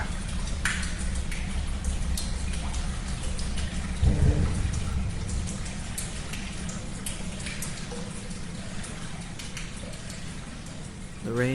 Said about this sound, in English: The rain poured heavily outside, the normally welcoming noise of water colliding with glass only causing me more stress.